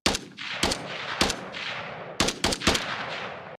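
Gunshots fire in an Unreal Engine 4 multiplayer shooter game: sharp, loud cracks, one or two at a time, each with a short decaying tail, sounding alone without talk.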